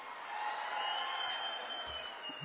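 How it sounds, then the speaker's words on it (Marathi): Applause from an audience at a Punyashlok Ahilyadevi birth-anniversary gathering at Chondi. The clapping is steady and continuous from a large crowd, with a faint background murmur, and lasts about two seconds. "त्यांच्यासाठी जोरदार टाळ्या वाजवा।"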